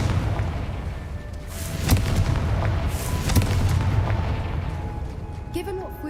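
A Confringo blasting spell goes off in the Hogwarts Legacy game, with booming, artillery-like blasts near the two-second and three-second marks set against a dense, rumbling background of game ambience.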